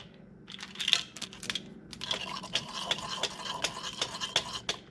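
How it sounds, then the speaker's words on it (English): Raw milk being stirred for homemade cream cheese, a spoon knocking and scraping with a steady rhythm of sharp close clicks against the pot and no talking. "And then we just want to stir it in."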